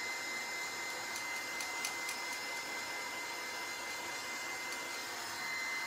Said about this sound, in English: I'm drying again from the angle to make sure it is going to get completely dry before painting.